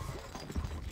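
Horse hoofbeats in the strategy game Stronghold: Crusader, a brief, low clip-clop of a few quick thudding steps, close and fairly soft, with nothing else around them.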